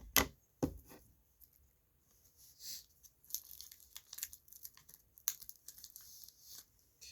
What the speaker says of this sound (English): Cutting right on the little ridges at the top, just because I don't want to ruin these cards